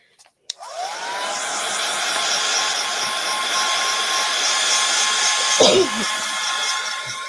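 A hair dryer is switched on after a couple of clicks and blows steadily and loudly to dry wet paint on a canvas, its whine holding level with a brief knock near the end.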